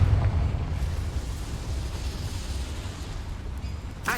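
A Confringo fire spell bursts in Hogwarts Legacy, a loud low rumbling blast at the start that settles into a sustained roaring, crackling wash with another surge at the end.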